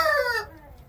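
One American Bresse rooster lets out a short, close crowing cry that breaks off abruptly, followed by a moment of near quiet.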